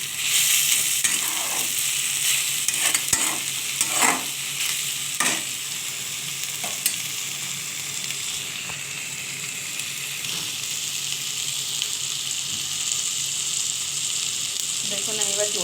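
Mixed vegetables with curry leaves sautéing over high heat, a continuous loud sizzle broken by repeated scraping stirs early on, then a steadier fry.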